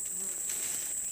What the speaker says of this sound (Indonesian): Lebah madu, bukan pula kelulut